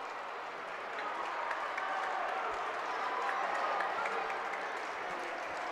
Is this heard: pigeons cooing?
no